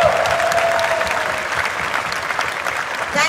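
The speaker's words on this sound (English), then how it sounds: "Big applause for you guys." Enthusiastic audience applause at a stage event for the launch of a Prime Video series, a thick continuous roar of clapping that slowly thins out toward the end, with a brief voice near the close.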